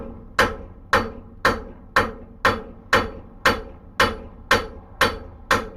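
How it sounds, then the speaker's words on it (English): Hammer corner striking hot metal on an anvil while tapering stock for box jaw tongs: eleven sharp, evenly spaced ringing blows about half a second apart, close and loud with no talk. "now I'm simply going to use the corner of my hammer to"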